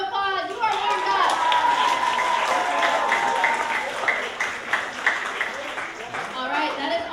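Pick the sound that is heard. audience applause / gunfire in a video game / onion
audience applause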